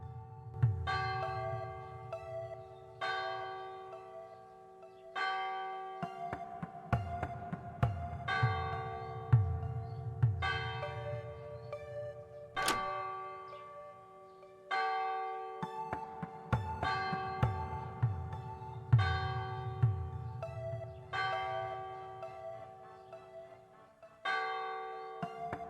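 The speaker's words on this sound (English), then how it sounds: "Marcus, it's not time for the bells yet." Church bells in The Samaritan Paradox video game ring out in repeated, evenly spaced peals with long resonant tails, each strike overlapping the hum of the last, steady and fairly loud with no voices.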